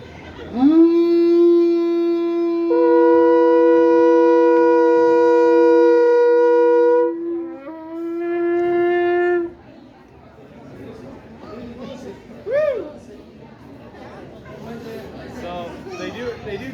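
A long, loud alphorn blast with rich, steady harmonics sustains for several seconds, shifts pitch, then fades into crowd chatter and scattered voices at a Scandinavian festival.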